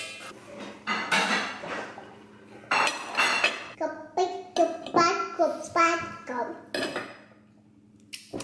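Cutlery chopping sausage on a plate, making a series of clinks and scrapes of metal on the dish, mixed with close speech and a small child's babbling.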